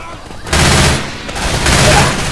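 Rapid video game gunfire, a dense loud fusillade in two sustained bursts close up, with a voice speaking amid the shooting.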